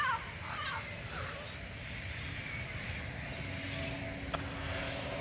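Wild parrots in Pasadena squawk in harsh, scattered calls, fairly distant and faint against a steady outdoor background hiss.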